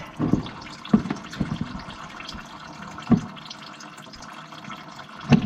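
Used oil draining from a 52-inch Wright Stander X mower during an oil change, a low trickling flow with scattered drips and a few sharper splashes, close and moderately quiet, no talk.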